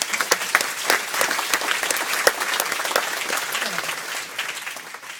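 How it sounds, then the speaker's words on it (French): An audience at a French-language panel event applauds in a sustained, even round of clapping, dense and steady for the whole stretch without a break. "On vous applaudit en tout cas."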